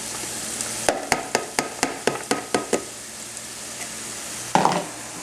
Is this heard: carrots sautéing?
yes